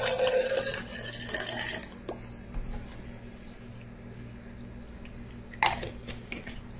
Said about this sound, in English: 5 ounces of grapefruit juice to our simple syrup.